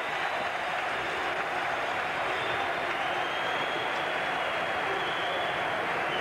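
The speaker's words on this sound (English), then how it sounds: "The crowd giving the United States a standing ovation as they go off the ice." A packed arena crowd at a 1980 Winter Olympics ice hockey game between Czechoslovakia and the USA gives a standing ovation, a dense, steady roar of applause and cheering that stays loud and continuous throughout.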